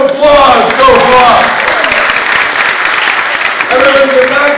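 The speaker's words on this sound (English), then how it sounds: "Give them a big round of applause so far" Sustained audience applause fills a hypnotist stage show, dense clapping from a crowd with faint voices mixed in, holding steady throughout before easing slightly near the end.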